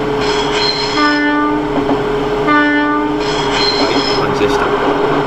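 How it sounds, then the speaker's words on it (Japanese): A Meitetsu 3700 series train sounds its horn in Densha de GO on the Nagoya Main Line, two sustained harmonic blasts over steady rolling rail noise, loud and close. "あ、警笛"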